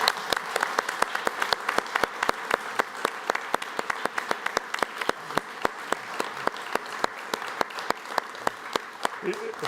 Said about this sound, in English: I think that deserves a round of applause to finish.